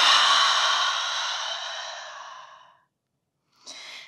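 A long, slow exhale during a vinyasa yoga session trails off into silence, and then a short, sharper breath follows. Both are close and unaccompanied by speech.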